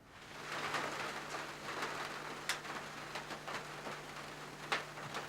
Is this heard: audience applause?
no